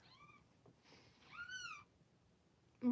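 A cat meows twice, short rising-falling calls with a brief pause between, fairly close in a quiet room, ending with a sudden low thump.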